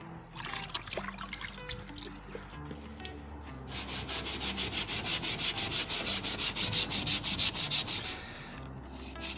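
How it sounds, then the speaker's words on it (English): A fiberglass van topper surface is scraped down with hot water in quick, rhythmic strokes, a close, rasping series of about a dozen even passes, with wet trickling and scraping before and after. "I'm just gonna scrape this all down to remove any chemicals that have come to the surface"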